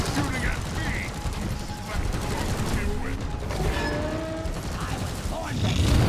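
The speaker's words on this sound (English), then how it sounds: "Why are you shooting at me?" Gunfire from the co-op mining shooter Deep Rock Galactic crackles in a dense, continuous clatter mixed with mechanical whirring and game effects, steady and busy throughout.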